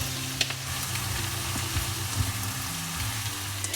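Leftover rice is stirred into broccoli in a hot frying pan, giving a steady close sizzle with soft scraping and stirring clatters throughout.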